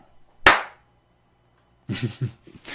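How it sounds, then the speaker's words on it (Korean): A short audience clapping burst on cue at a Korean stock-market lecture: one sharp slap, a pause, then a few quick claps in a quiet room. "자, 여기서 박수."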